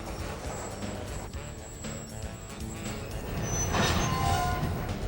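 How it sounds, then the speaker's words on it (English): A GP38 locomotive hauling freight cars rolls back toward the Carroll Avenue rail yards, giving a steady rumble with wheel and rail noise that swells louder near the end, with faint high squeal. "the GP38 returns to the Carroll Avenue yards to pick up some other freight cars"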